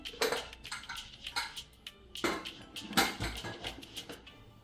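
A pressure cooker is set down on a kitchen stove with a series of close metallic clanks and knocks. Scattered sharp clinks of the metal pot and lid are spread across the stretch, with no talk.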